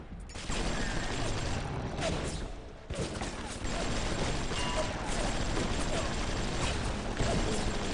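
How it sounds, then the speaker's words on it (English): Machine gun fire in the video game Bioshock, dense, continuous rattling bursts heard loud and near, with a short dip midway before the firing resumes with game clatter. "So let's see what we can do with the machine gun."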